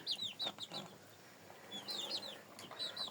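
Several hens, including a Leghorn, cluck and chirp in short, bright bursts, fairly close, with brief pauses between the groups of calls.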